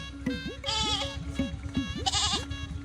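A goat bleats repeatedly at close range, wavering nasal cries in quick succession over a low background of voices and shuffling.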